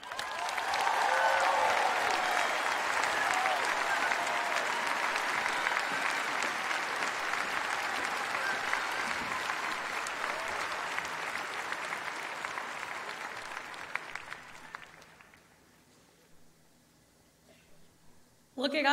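A large crowd applauds at the Notre Dame commencement, sustained loud clapping for about fifteen seconds that gradually thins and fades out.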